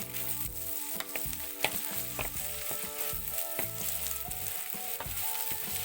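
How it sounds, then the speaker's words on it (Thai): Crushed garlic stir-frying in a pan, with a steady loud sizzle broken by repeated scraping and clanking strokes of a utensil as it is tossed, close up and without speech. "เอากระเทียมทุบลงไปเลยครับ เอารวนเลยครับ รวนให้เข้ากันเลยครับ"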